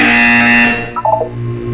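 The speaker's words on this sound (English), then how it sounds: "You will hear a buzzer." Buzzer in the video game Portal 2, one loud harsh tone lasting under a second that cuts off abruptly, followed by a few faint electronic blips.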